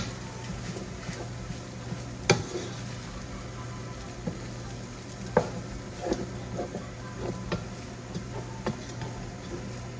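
Bacon and broccoli fried rice being stir-fried over high heat in a pan, with a steady low sizzle broken by scattered scrapes and clacks of stirring, including a few sharper knocks.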